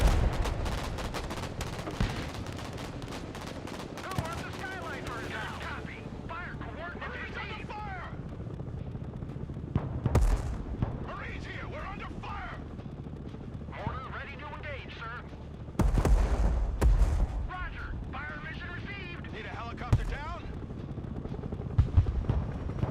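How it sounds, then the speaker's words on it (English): Mortar fire in the video game Broken Arrow, with deep booming impacts and rumbling shockwaves mixed with gunfire and helicopter noise in a busy battle soundscape. Someone talks throughout. "Like the shockwave effect on mortars."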